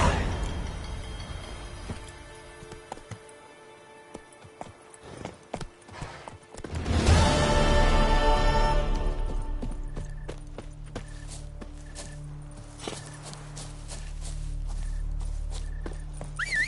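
Horse hooves clip-clop in a steady gallop rhythm in The Witcher video game, joined by an occasional whinny, close and fairly loud over game ambience, with a brief spoken word.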